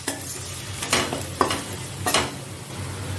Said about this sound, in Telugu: ఉల్లిపాయలు కాస్త ఫ్రై అవుతున్నప్పుడే సాల్ట్ అండ్ పప్పుకి తగినంత పసుపు, స్పూన్ కారం యాడ్ చేసుకొని చక్కగా ఆనియన్స్తో ఫ్రై చేసుకోండి